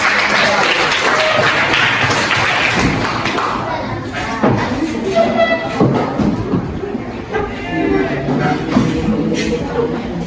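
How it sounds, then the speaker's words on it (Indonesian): A group breaks into loud applause, clapping strongly at first then tapering into scattered claps, with thuds and murmuring voices underneath. "Kasih tepuk tangan ke bapak."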